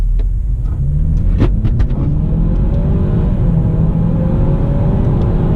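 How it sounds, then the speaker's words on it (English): A 2018 Ford Kuga ST 240 HP engine pulls hard under acceleration, a loud steady low rumble with rising engine tone heard from inside the car, no talking. "So yeah, you really have to rev the engine out to get the car going."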